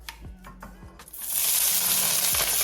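Scallions and garlic are stirred in a pan with a few clinks, then a loud sizzling hiss takes over and holds steady as they fry, up close and without speech.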